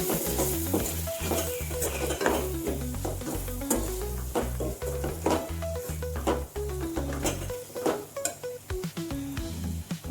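Chilli powder sautés in hot oil for a Tamil-style chicken gravy, a steady sizzle broken by repeated scraping stirs of a spoon against the pan, with music playing in the background throughout.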